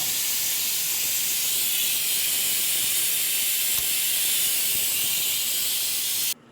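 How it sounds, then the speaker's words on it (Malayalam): A pressure cooker vents a loud, steady steam whistle while beef curry with potatoes cooks, a continuous close hiss that holds for several seconds before cutting off abruptly. "അപ്പോൾ നമ്മുടെ 7ാമത്തെ വിസിലാണ് അടിക്കുന്നത്."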